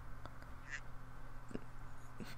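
A bird in an old DragonBall video game gives several short, harsh quacking squawks spaced across the moment, fairly faint over a steady low game hum, with no voices.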